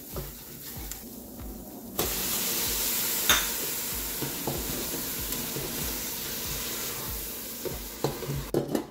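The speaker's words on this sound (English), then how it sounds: "We're just gonna add in our spices. And right after, our tomatoes." Spices and tomatoes hit browned onions in a hot pan for a dal and aloo gobi dish, setting off a sudden loud hiss that settles into steady sizzling with soft stirring scrapes.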